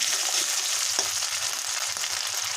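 Ginger paste sizzles steadily in a pan with fried onions for a cauliflower, potato and koi fish curry, a close, continuous hiss with a few faint stirring clicks and no talking.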